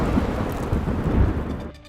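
A thunderstorm in the video game Mecha BREAK rolls as a loud, continuous low rumble over rain hiss, easing off near the end.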